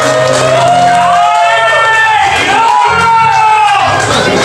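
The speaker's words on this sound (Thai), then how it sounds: "ขอเสียงปรบมือให้กับครอบครัวใหม่ครับ" Wedding guests cheering and whooping for a newly married couple at a Thai wedding reception, a loud continuous crowd roar with shouts and whoops filling the whole stretch.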